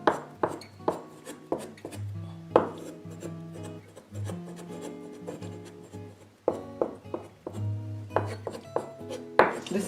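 A knife cuts and shapes spiced Christmas cookie dough, tapping the board in irregular clusters of crisp, close knocks and scrapes with brief pauses between strokes.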